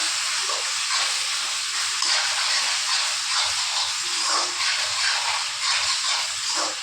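Vegetables being stirred with amchur powder in a hot oiled pan give a steady, loud sizzling hiss throughout, with no talking.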